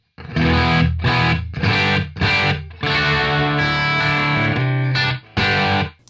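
A Malcolm Young signature Gretsch electric guitar plays through an overdriven amp, loud distorted strummed chords in several separate bursts with brief gaps, ending in a longer ringing chord and a final hit.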